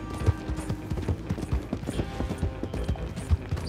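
A horse clip-clopping in the video game Red Dead Online, quick rhythmic hoofbeats with some mechanical clicking, fairly soft and steady with no talk over them.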